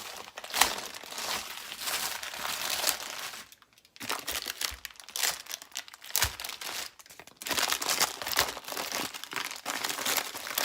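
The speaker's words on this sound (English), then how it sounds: "we're just going to take our parchment paper, and to start with, you're just going to fold it over" Parchment paper being folded over by hand in a kitchen, repeated crisp crinkling and rustling bursts with short quiet gaps, close up and no speech.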